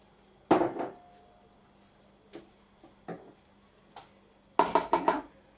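An egg added to waffle batter in a bowl: a sharp crack and knock on the bowl, a few light taps, then a quick cluster of clattering hits near the end, close and clear in a quiet kitchen.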